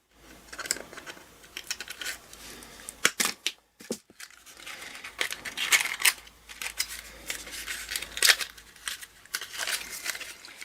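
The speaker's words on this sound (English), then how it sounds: "I'm going to take a pair of pliers and cut the lollipop stick" Pliers snipping through a lollipop stick during a Halloween cracker craft, heard as a string of close, sharp clicks and crunchy snaps with rustling handling noise between them, one especially crisp snap standing out near the middle.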